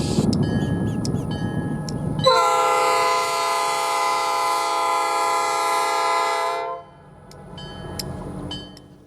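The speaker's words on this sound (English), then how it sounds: "Our next train is a light engine move heading to the mill" A light engine locomotive on the US Sugar Corporation cane railroad near Clewiston sounds a loud, sustained horn blast lasting several seconds over rumbling engine noise, then the horn cuts off and the locomotive idles and rolls on.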